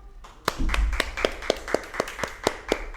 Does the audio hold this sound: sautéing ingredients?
no